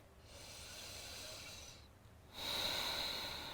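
Steady audible breathing during sun salutation yoga, a soft continuous airy hiss with a brief lull in the middle before a louder, brighter exhale rises and carries to the end, close and alone.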